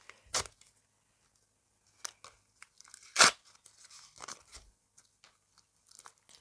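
Crisp tearing and crinkling of a paper packet in a few short separate bursts, one louder rip in the middle, with quiet gaps between.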